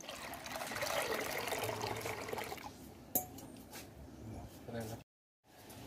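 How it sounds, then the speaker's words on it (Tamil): Tender coconut water is poured into a payasam mixture of milk, making a steady liquid trickle that fades into lighter dribbles with a sharp clink, while a person speaks over it. "இளநி தண்ணியும் சேர்த்துடலாம்."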